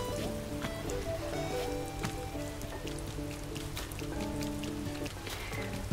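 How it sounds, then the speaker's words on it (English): Soft, steady rain falls on an island in the video game Animal Crossing: New Horizons, a gentle patter of drops under a tinkling melodic game tune, with no voices. "I really do love the rain on my island."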